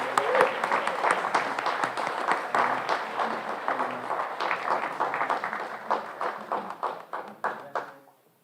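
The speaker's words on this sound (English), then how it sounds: "And a round of applause, a great effort." An audience at a high school senior awards night claps for the students, close distinct claps over a steady background, thinning into scattered individual claps before stopping.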